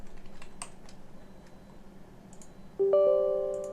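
Computer keyboard keys pressed while stepping through code in a debugger: scattered soft taps and clicks over a quiet room hum, followed near the end by a sustained electronic tone.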